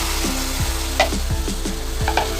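Chopped tomatoes frying and being stirred in oil with softened onions for Tamil tomato thokku, a steady sizzle broken by a regular run of scraping spoon strokes, close and fairly loud, with no talking.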